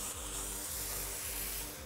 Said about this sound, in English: I'm gonna spray right inside where we have movement in there